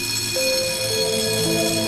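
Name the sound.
alarm bell ringing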